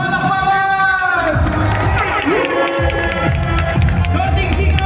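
A morning gathering of about 801 livelihood-program beneficiaries breaks into loud crowd cheering and clapping, a dense steady roar of voices and whoops close by, with a voice speaking over it.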